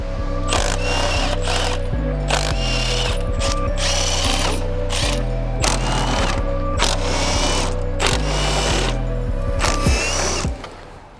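Bolts on a Toyota GR Yaris engine mount are undone with a ratchet or power tool, giving repeated bursts of mechanical whirring and clicking over a steady low hum, loud and close, stopping near the end.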